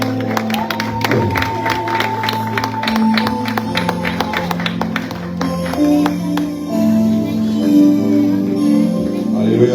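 A church congregation cheers and applauds as a pastor approaches, a loud sustained wash of clapping and voices over music with a steady beat, with a few scattered whoops.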